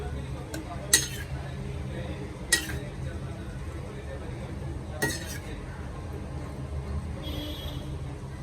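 Kappaka (tapioca) fry is turned in a pan with a few sharp metallic clinks of a spoon against the pan over a faint background hiss, sparse and close.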